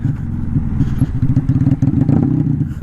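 A Honda Magna motorcycle engine running rough idles unevenly, its low chugging pulse stuttering and surging near the listener without settling into a steady rhythm.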